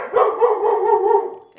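A dog indoors lets out one loud, drawn-out bark that stretches into a wavering howl-like cry for over a second, very close.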